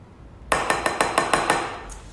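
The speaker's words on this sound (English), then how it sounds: "Scrape my beans into my bowl." A utensil scraping black beans from a pan into a bowl, heard as about eight sharp, evenly spaced metallic clinks and taps in quick succession, close and fairly loud with no talking.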